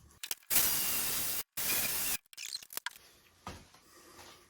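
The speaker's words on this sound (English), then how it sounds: "we're going to take a Sawzall and we're going to cut this" A Sawzall reciprocating saw cutting metal clamped in a vise for a VW Baja ball joint beam, two close, loud bursts of harsh buzzing followed by quieter scraping and handling.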